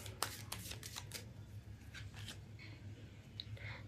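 Tarot cards are drawn from a deck and handled close by, with a quick run of crisp card flicks early on, then softer sliding and shuffling rustles, all quiet and without talk.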